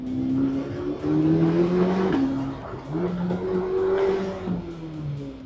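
A car drives along steadily, its engine note holding an even tone with gentle rises and dips as it shifts, heard from inside the cabin with low road rumble.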